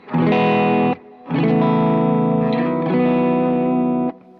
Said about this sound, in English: So my first setting is this nice reverb.